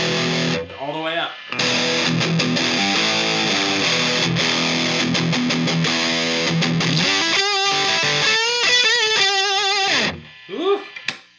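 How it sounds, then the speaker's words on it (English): Electric guitar driven through a Boss distortion pedal with the gain turned all the way up, loud sustained chords and bending, wailing lead notes that ring out then drop away near the end. "It's a lot of range on that distortion"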